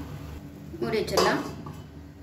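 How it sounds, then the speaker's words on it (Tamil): A lid is set down on a cooking pot on a kitchen stove, giving a short metallic clink and rattle, while a voice talks nearby. "மூடி வச்சிடலாம்."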